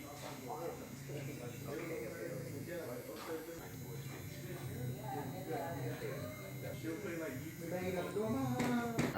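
Electric hair clippers bought off Amazon buzz steadily while cutting hair in a barbershop, a constant close hum running beneath a person talking.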